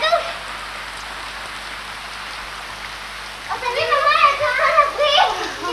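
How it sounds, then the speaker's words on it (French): Steady summer rain pours down outdoors in a village in the Sarthe, a constant close hiss that keeps going as a voice and other people's talk start up over it. "C'est la première fois qu'il pleut depuis un mois?"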